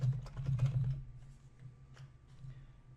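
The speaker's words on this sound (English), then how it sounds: "So let's say we were to type in discount travel" Fingers typing a short search phrase on a computer keyboard, a quick burst of close, quiet key clicks followed by a few scattered taps.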